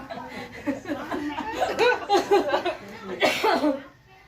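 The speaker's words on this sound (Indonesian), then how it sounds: "Sebenarnya aku ini lagi batuk guys." A burst of harsh, breathy coughing mixed with voiced, laugh-like exhalations, loud and close, easing off near the end.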